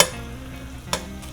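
Bacon browning in a pan over medium heat, a soft continuous sizzle with a faint stir tick near the end, brief and alone.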